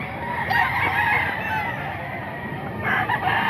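A gamecock rooster, a Sweater bloodline bird, crows steadily at a busy market, its call fairly close amid constant crowd noise and a second rise near the end.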